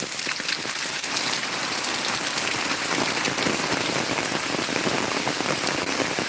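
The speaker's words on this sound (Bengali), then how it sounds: "এখন কিন্তু প্রচণ্ড বৃষ্টি হচ্ছে দেখতেই পাচ্ছেন" Heavy rain pours down on a Murshidabad village in a dense, constant roar, drops pattering thickly on surfaces with no pauses and no one speaking.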